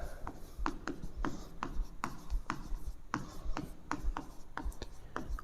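Marker or chalk writing out equations for an AC circuit lesson, a steady run of short scratchy strokes and taps repeating through the clip at close range, with no voice heard.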